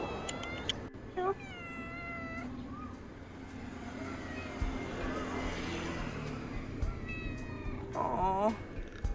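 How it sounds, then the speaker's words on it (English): A small cat meows several times, with thin rising and falling cries near the start and again near the end. Traffic rumbles outdoors behind it, and a person talks faintly. "Oh, little kitty."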